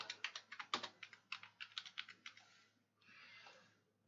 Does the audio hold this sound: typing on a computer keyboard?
yes